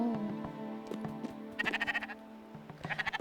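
Sheep bleating in the video game Spiritfarer, two wavering, pulsing bleats standing out over a sustained game music tone and scattered soft clicks, no talking.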